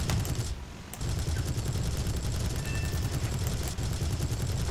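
Aircraft cannon fire in the War Thunder combat flight game, a dense, continuous rattle of rapid shots with only a brief pause near the start, loud and unbroken throughout.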